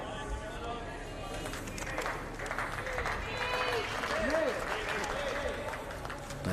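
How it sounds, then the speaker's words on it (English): A crowd at a lawn bowls semi-final cheers and claps off to one side, sounding distant and fairly even. A voice talks over it. "the Cabot crowd's up and about, aren't they, mate? You can hear him off to our left."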